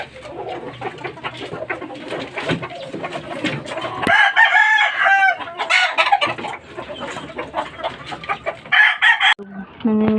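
Gamefowl hens and chicks cluck and call loudly and continuously at close range, with sharp repeated clucks and some high squawks, while a person talks at times.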